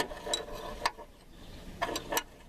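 A tensioner pulley screw on a 1992 Peugeot 405 XUD turbodiesel engine being worked loose with a ratchet, giving a few sharp metallic clicks in two pairs, close up, with no talking.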